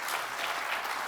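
An awards ceremony audience breaks into applause, a brief, even patter of many hands that sounds soft and somewhat distant, with no voices over it.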